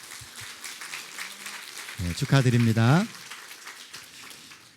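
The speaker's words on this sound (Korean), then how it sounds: "다 함께 축하의 박수를 좀" A church congregation claps in celebration, a steady, dense patter of applause running throughout while a voice speaks briefly over it.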